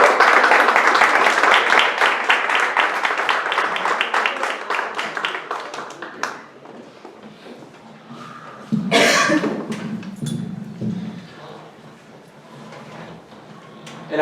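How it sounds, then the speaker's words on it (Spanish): Applause for an actor at a musical theatre school in Madrid, a brisk burst of clapping for about six seconds that fades out, followed by quieter room sounds and a brief rustle. "Dani, un aplauso para él"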